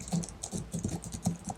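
Typing on a Logitech MX Keys for Mac wireless keyboard, a quick, soft, even patter of low-profile keystrokes heard close and quiet with no voices.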